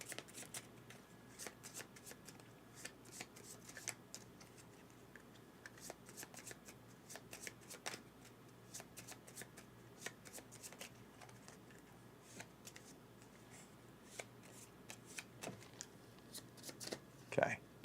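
Deck of cards being shuffled by hand during a solo board game session of Heading Forward, quiet repeated riffles and soft card slaps scattered over the stretch, with a brief louder burst near the end.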